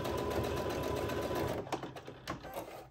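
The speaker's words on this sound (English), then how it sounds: "we're gonna go sew our darts" A sewing machine stitches darts in fabric with a fast, steady whirring run, then slows into a few short bursts and stops and starts near the end, heard up close without talk.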